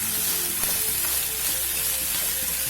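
Cauliflower stir-frying in spice paste over low heat, a steady close sizzle and frying hiss with faint stirring sounds, no voices.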